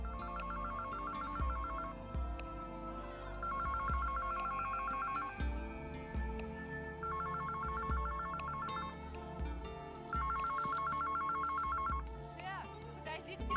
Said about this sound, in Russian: Шеф, подойди к телефону.